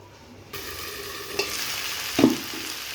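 Potatoes sauté in a pan for a fish and potato curry, a steady sizzle that starts abruptly and continues with a couple of louder stirring scrapes, close and without any talking.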